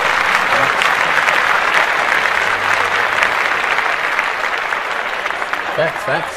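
Podcast listeners applaud in a dense, continuous wash that holds steady and fades slightly toward the end, with a little talk underneath.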